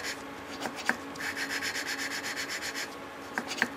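Hand sanding with sandpaper on a homemade water-cooled Briggs engine project, a fairly quiet steady scraping with rapid back-and-forth strokes, broken by a few sharp clicks or taps near the start and end.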